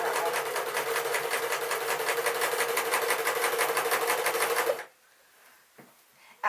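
A sewing machine stitches a pink dress in a fast, steady mechanical whir for nearly five seconds, then stops abruptly, leaving near silence with a couple of small clicks.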